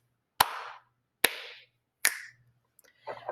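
Three sharp hand claps ring out at a steady, evenly spaced rhythm, each with a short bright decay, followed by a fainter, rougher burst of sound; no one speaks.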